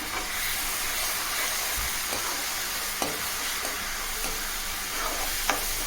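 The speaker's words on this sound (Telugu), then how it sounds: "ఉల్లిపాయ పేస్ట్ కూడా బాగా దోరగా వేగే వరకు కూడా వేయించుకోవాలి" Onion paste fries with ginger garlic paste in a pan for a boti fry, giving a steady, close hissing sizzle with occasional soft stirring knocks throughout.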